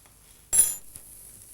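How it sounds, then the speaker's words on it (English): Cinnamon and ground cloves being stirred in a pan, heard as one brief scrape and clink of a utensil against the metal, fairly close, with near silence before and after. "Give it another stir"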